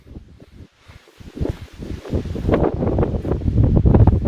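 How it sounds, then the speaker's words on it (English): Strong wind buffets the microphone in gusts on a mountain trail, starting softer and building to a loud, rumbling roar by the end. "are these some strong wind gusts?"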